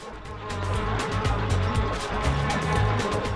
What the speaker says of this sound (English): Looks like there's a mean bee here.